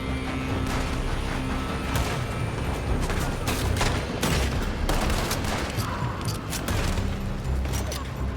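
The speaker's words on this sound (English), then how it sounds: "They're shooting from that building!" Dense, continuous gunfire pours from a building in a Red Dead Redemption 2 shootout, with sharp shots and heavy bursts overlapping in a steady, loud barrage and raised voices mixed in.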